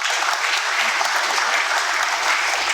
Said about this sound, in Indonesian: tepuk tangan untuk adik-adik semua